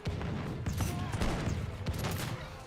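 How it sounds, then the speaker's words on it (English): Villagers firing muskets at pikemen in Age of Empires 3, a rapid crackle of overlapping gunshots in a distant battle fusillade, with a faint voice partly underneath. "Villagers shooting the pikemen."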